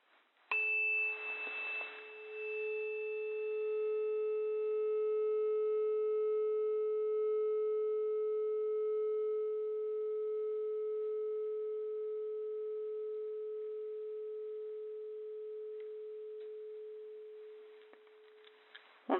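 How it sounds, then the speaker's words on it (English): A struck tuning fork rings with a pure, steady sustained tone, starting with a sharp strike and decaying very slowly over nearly twenty seconds, alone with no talking. "Strike the tuning fork, and if it feels safe to do so, place it next to the subject's ear."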